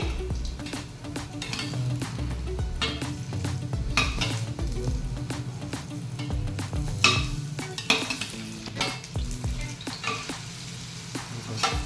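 Falafel balls fry in hot oil over a medium flame, sizzling steadily close up while a utensil stirs and clinks against the pan now and then.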